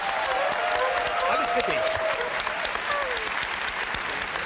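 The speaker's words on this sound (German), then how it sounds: "Vielleicht mal einen ganz großen Applaus für unsere charmante Frau" Studio audience of a German TV talk show breaks into loud, sustained applause, a dense steady wash of clapping throughout while a voice speaks briefly over it.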